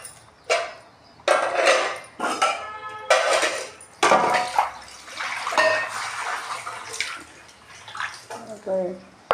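Dishes being washed under running water in a home kitchen, with splashing, clattering and scrubbing in bursts across the clip while a person speaks intermittently over it.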